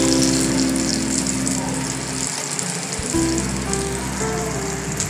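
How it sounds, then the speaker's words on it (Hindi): Beef shami kababs fry on a hot griddle with a loud, steady oily sizzle and hiss, briefly dipping as the kababs are turned, then sizzling on evenly. "अब दूसरी तरफ से इसको फ्राई होने देते हैं।"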